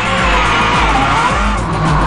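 A rally car at speed on a special stage, its engine roaring loudly and close with rhythmic pulses of revs and some tire noise throughout.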